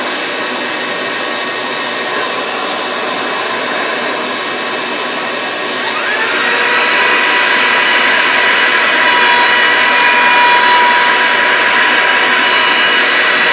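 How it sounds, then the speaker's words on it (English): A power drill whines steadily and loudly, drilling all the way through a wooden board for a farm table, its motor pitch rising partway through as it bites into wood, continuing without pause. "so I can get the drill bit in there to drill all the way through this board"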